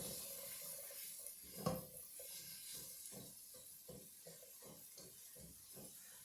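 Broccoli and celery sautéing in a soup pot give a soft, steady hiss with faint scraping and stirring clatter, one louder knock near the start, all fairly quiet and close.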